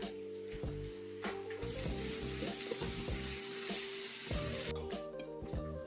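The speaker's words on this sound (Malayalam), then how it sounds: "അപ്പൊ നമുക്കൊന്ന് ഇളക്കി കൊടുക്കാം." Brussels sprouts thoran is stirred in a pan over a medium flame, with a steady close sizzle and repeated scraping strokes over faint sustained background tones.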